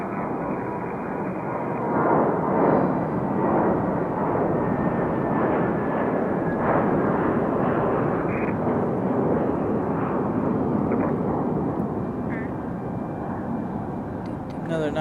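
An Airbus A321 on its takeoff roll at Raleigh-Durham International, a broad, steady jet roar that holds loud and close for the whole stretch, with no voices over it.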